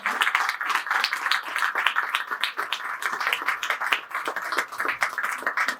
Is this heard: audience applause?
yes